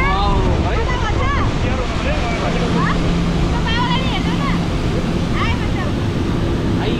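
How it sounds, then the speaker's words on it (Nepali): Motorboat ride on Begnas Lake: steady engine and water rush fill the background with wind buffeting the microphone, while people talk loudly and continuously over it. "मोटरवाला डुङ्गा चढ्दैछौँ।"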